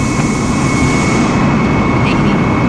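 Airliner jet engines spooling at takeoff thrust in Microsoft Flight Simulator, a steady loud roar with a high whine that holds for the whole stretch.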